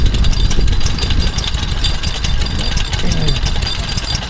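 Vintage stationary engine running slowly at about 200 RPM at a spring fair, a loud continuous rhythmic chugging with regular beats close by, with a noisy outdoor background.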